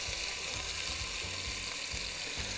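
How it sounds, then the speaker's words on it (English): Meat searing in batches in a hot pan of oil for Texas chili, a steady dense sizzle and crackle running throughout at close range with no talking. "we're just gonna sear it off"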